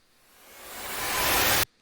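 A rising noise sweep swells steadily louder and brighter for over a second, then cuts off abruptly into near silence.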